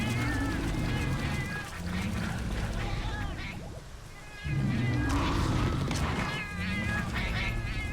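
Cats meowing in the Monster Hunter 3 Ultimate video game, repeated drawn-out mews over busy game sounds and a continuous rumble, with brief talk and a short quieter gap midway.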